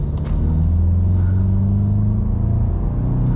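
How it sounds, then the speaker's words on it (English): A loud, close engine roars steadily as a Mk8 Volkswagen GTI 40th Anniversary accelerates, with a throaty low rumble and rising intake whine throughout. "you can hear that intake. It's screaming, and it's really noticeable."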